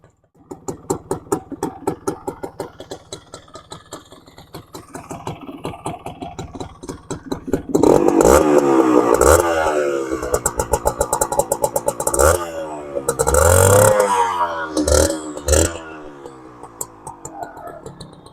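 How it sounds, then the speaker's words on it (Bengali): An old Honda H100S CDI motorcycle's single-cylinder engine starts and runs, a loud close popping idle that rises into revs several times before settling back, steady rhythmic exhaust beats throughout. "এই সিডাই গাড়িটা স্টার্ট দেবো আপনারা একটু সাউন্ডটা শুনুন সবাই এটি কিন্তু সিডাই গাড়ি চলছে"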